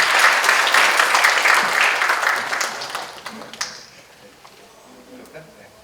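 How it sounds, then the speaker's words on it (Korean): At a World Youth Day ceremony hosted by the UN-Habitat Korea committee, the audience gives loud, dense applause that fades out after a few seconds into a quiet hall with faint voices. "다시 한번 박수 부탁드리겠습니다."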